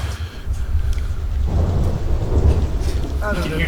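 Steady rain pours throughout with deep rumbling thunder underneath, a low roll building in the middle; a brief voice-like tone appears near the end.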